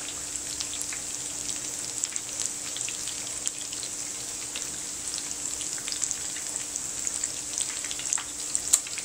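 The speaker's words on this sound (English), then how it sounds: "We're gonna get some more of these balls fried up, these potato balls." Potato balls deep-fry in hot oil with a steady, close hiss and a dense crackle of tiny pops, continuous throughout without speech.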